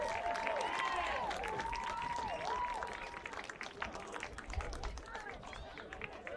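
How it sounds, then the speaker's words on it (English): Crowd applause in the stands at a high school boys varsity football playoff, Triton versus Abington, steady broadband clapping over the whole stretch with a public-address announcer's voice talking over it. "A round of applause for the boys varsity soccer team."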